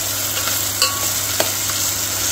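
Onion and tomato fry in cold-pressed groundnut oil for an egg and cashew rice dish, a steady bright crackle close by with a couple of sharper pops and spoon taps, no voices.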